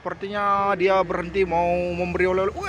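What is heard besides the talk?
No everyday noises stand out.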